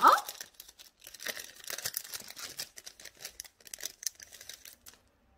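Plastic bag holding tiny ion sand being opened and handled, giving soft, close crinkling and rustling in irregular bursts that fade toward the end.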